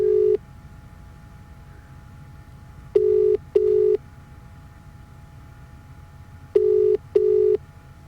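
A telephone call rings out unanswered, with short repeated ringback tones in pairs separated by pauses, clear over a low steady background hum.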